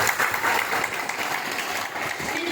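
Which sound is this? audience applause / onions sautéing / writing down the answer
audience applause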